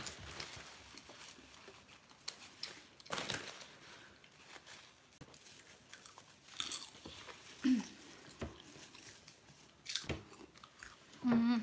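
Someone chewing popcorn up close, with irregular crunchy bites and chewing sounds scattered over several seconds, against a quiet background.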